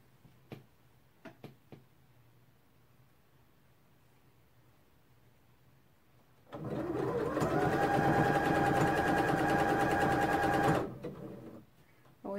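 A sewing machine hems a fleece 1980s pullover top, a few soft clicks, then a loud, steady whirring run of about four seconds that stops abruptly, close up.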